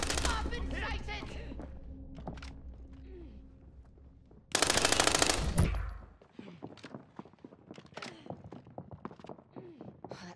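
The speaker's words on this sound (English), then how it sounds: "I'm taking fire! I've been sighted!" Call of Duty video game combat with a loud burst of rapid automatic gunfire in the middle, while softer shots, thuds and voices fill the quieter stretches before and after.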